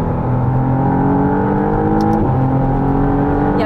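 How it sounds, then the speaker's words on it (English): A 2023 McLaren Artura hybrid sports car accelerates hard with its electric motor assisting, a steady loud engine and motor drone rising in pitch, briefly dipping at a gear change midway before climbing again, heard alone without talk. "the acceleration with that electric motor is so fast"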